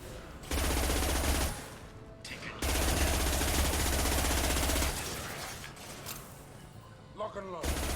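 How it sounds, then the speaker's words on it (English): Impact-shot gunfire in Mass Effect 2, a sci-fi shooter game: two long, loud sustained bursts of rapid weapon fire with mechanical clatter, dropping to a quieter rumbling tail with faint clicks near the end. "Firing an impact shot."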